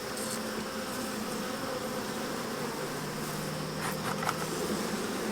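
Dense, steady drone of honey bees buzzing inside an open hive, a continuous close hum with no talking.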